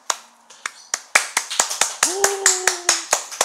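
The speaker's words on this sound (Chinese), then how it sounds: "我们掌声欢迎。" A few people clapping to welcome a guest onto a livestream: a sparse, fairly regular series of sharp claps, close and crisp, with a brief sustained vocal tone partway through.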